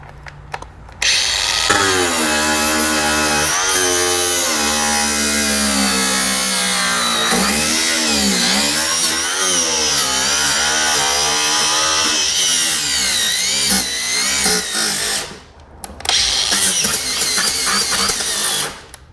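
A power tool screams while cutting into the hood of a flood-damaged 2013 Dodge Dart, its pitch rising and falling with the load in a long, loud run that stops briefly near the end and then resumes.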